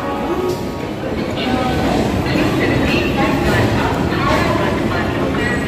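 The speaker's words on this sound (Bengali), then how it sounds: "ওইদিকেও ট্রেন যাচ্ছে একটা" An Indian Railways train rolls past near Howrah station beside the Howrah–Amritsar Mail's sleeper coaches, a loud rumbling rattle with rhythmic wheel clatter, steady and close throughout, with someone talking over it.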